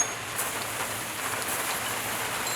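Rain falls steadily outdoors during work on an NA Miata, a constant dense patter and hiss at even volume with no talking.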